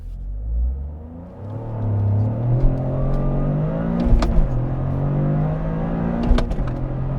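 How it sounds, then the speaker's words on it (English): A 2023 Toyota GR Corolla, all-wheel drive, launches hard and accelerates through quick gear changes, its engine rumbling and climbing in pitch close up, with brief dips at each snappy shift and no talking. "this is just a lot easier to launch for an all-wheel drive car than I was expecting, and it just snaps through those gears"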